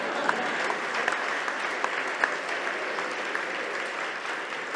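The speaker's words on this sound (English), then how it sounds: "now you can applaud" An audience at a speech in Israel breaks into steady applause, a dense wash of many hands clapping at even strength throughout, with a few sharper individual claps standing out.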